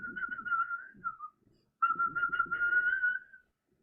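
A person whistles a short melodic phrase, pauses briefly, then whistles another tuneful phrase, clear and close with a soft breathy undertone.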